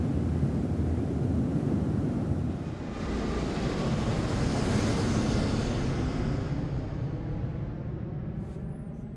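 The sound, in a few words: airplane sound fading away in edited video clip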